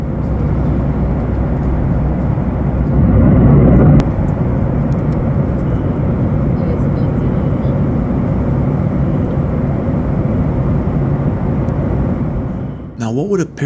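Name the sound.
airplane cabin noise in flight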